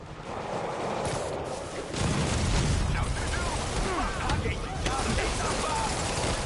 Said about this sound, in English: Hear gunfire.